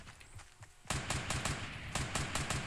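Rapid automatic gunfire in Fortnite, a loud burst of fast repeated shots after a quieter stretch of distant firing, steady and close.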